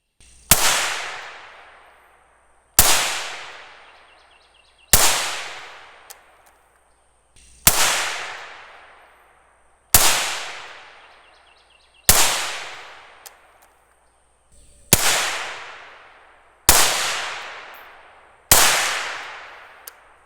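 Rifle shots from a Steyr AUG fitted with a Resilient Suppressors Stacy's Mom suppressor with a solid end cap: nine sharp, loud reports spaced about two and a half seconds apart, each trailing off in a short echo.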